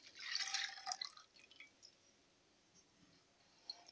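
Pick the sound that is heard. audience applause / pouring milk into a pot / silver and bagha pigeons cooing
pouring milk into a pot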